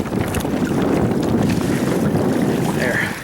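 Wind rushing over a Hobie Tandem Island sailboat as its sail fills, a dense, steady buffeting roar with water splashing beneath, close and loud, easing slightly at the end.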